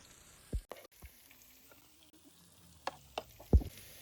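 Curry leaves, crushed ginger and crushed garlic drop into hot oil for a traditional beef roast, giving faint scattered crackles and pops with a few sharper spits, close by and fairly quiet.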